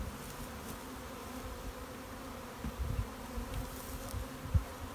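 Honey bees buzz at a hive during queen rearing work with hives, a steady low drone running throughout with a few louder bumps near the end and no talking.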